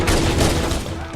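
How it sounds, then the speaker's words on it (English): Rapid gunfire from shooting Marines in Halo: Combat Evolved, a dense continuous burst of shots mixed with game sound effects, loud and close for about a second. "We're just shooting Marines in the back here."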